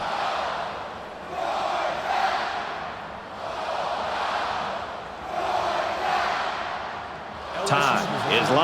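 A stadium crowd roars before kickoff in the NCAA 14 college football video game, a broad, loud, swelling wash of noise rising and falling in waves, with a brief burst of talk near the end.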